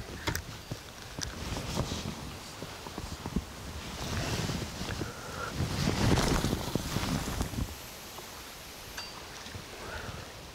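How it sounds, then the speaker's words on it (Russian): Strong wind gusting over open water during a fishing trip, a steady broadband roar buffeting the microphone that swells to its loudest near the middle and eases off toward the end, with no talking. "Ветер довольно-таки сильный,"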